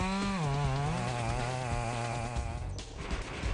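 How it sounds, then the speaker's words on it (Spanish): Chainsaw felling trees in a forest near Eugene, Oregon, its engine whining at a high steady pitch before dipping and bogging down as it cuts, loud and close. "los trabajadores equipados con motosierras se adentran en los terrenos para trabajar"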